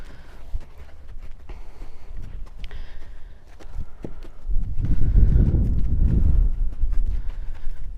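A young colt's hooves clip-clop as she steps up and around, with scattered light steps at first, then heavier, closer hoofbeats and shuffling building toward the end, with no talk.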